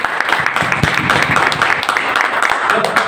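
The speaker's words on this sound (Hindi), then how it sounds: "एक बार ताली होनी चाहिए सर" An audience claps at a business seminar in Koutala, Telangana: dense, steady applause from many hands fills the room close to the microphone, with voices mixed in throughout.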